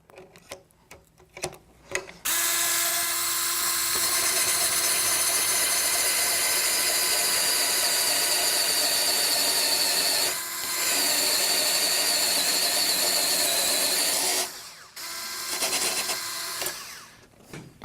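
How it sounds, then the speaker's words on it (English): A planer reamer cuts bone down to a marked line during a hip resurfacing implant operation, a steady high-pitched powered grinding whir that runs continuously for about twelve seconds, dips briefly once, then stops. "next we'll use the planer reamer to cut that down to this line"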